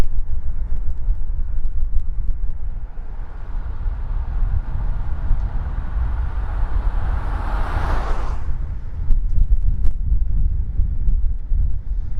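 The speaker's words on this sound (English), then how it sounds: "Feel some wind. That's a bit annoying." Steady, rumbling wind buffets the microphone while riding an old Union bicycle outdoors. It is continuous and fairly loud throughout, with a brief swell of hissing gusts near the end.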